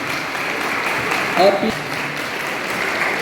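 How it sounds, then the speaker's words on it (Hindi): A school audience claps loudly in a steady wash of applause that swells briefly midway, with a voice speaking over it at the start. "जब जोरदार तालियां"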